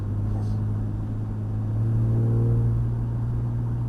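A Porsche 911 Carrera 4S with a 400 hp engine accelerates on a racing circuit, a low, steady rumble that swells as the throttle opens, heard from inside the car with no voices.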